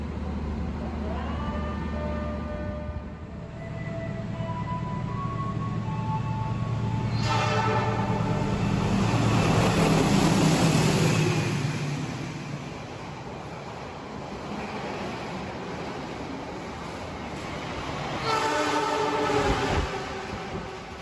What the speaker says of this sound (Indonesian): itu adalah kereta api menoreh dari Pasar Senen menuju ke Semarang Tawang